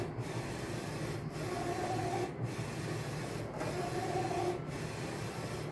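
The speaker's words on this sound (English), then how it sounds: "We are now about 20 minutes into printing this print." A J16 printer runs while printing on canvas, giving a steady mechanical whir and rub with regular carriage passes about once a second, close and even throughout.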